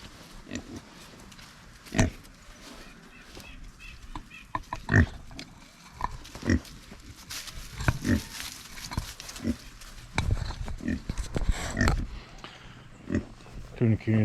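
Kunekune pigs grunt in a winter pasture, with close, irregular snorts and grunts that come in scattered bursts against a low, steady background.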